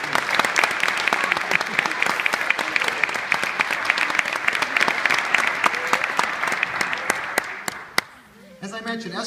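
Sustained applause from a crowd at a family reception, dense and steady clapping for about eight seconds before fading out, with a few voices at the end.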